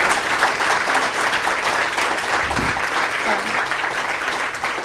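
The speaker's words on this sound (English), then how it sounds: "So can we just take a moment to applaud them," Audience applause at a book event, a dense, steady wash of clapping from a crowd filling the whole stretch, fairly loud and unbroken, with no clear talk over it.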